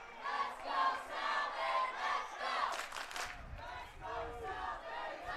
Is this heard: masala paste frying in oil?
no